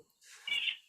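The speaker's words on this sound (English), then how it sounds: "The birds are really loud." A single short, bright bird chirp nearby, quiet and brief, rising out of near silence in the middle of the moment.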